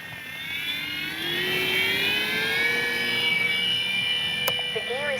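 An FMS P-47 Thunderbolt RC warbird plane on its maiden flight gives a steady whining motor note that slowly rises in pitch as it passes overhead, sustained and moderately loud.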